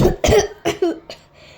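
A person coughs four times in quick succession, loud and close, each cough a short harsh burst with a brief gap, the last one weaker and trailing off.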